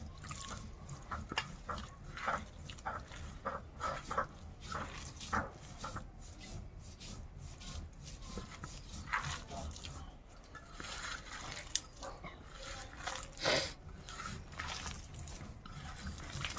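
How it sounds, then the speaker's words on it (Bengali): Moringa flower fritter batter is squeezed and mashed by hand in a bowl, giving soft, faint, wet squelches in an uneven repeating rhythm. "এইভাবে একটু চটকে চটকে মাখিয়ে নিতে হবে।"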